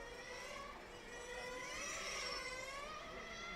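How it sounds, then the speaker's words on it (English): GT8 nitro RC car engine at a racing qualifying session, running lean and losing revs, heard as a steady high-pitched whine with shifting harmonics, fairly distant and continuous. "You can hear the engine noise."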